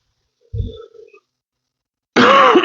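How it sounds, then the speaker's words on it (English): One short, throaty cough close to the microphone, then quiet, followed by a louder burst of noise at the end. "Got a little cough."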